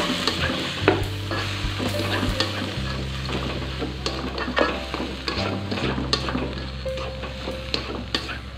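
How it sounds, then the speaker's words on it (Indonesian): Bean sprout filling gets stirred in a frying pan, with a constant close sizzle and the spatula scraping and tapping the pan at irregular moments. "Kita aduk kembali sampai semuanya tercampur rata."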